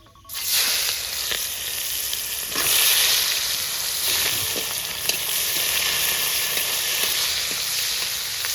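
Chopped onion frying in hot oil with whole spices, a steady loud sizzle and hiss that flares briefly as the onion goes in, with faint stirring scrapes and no voices.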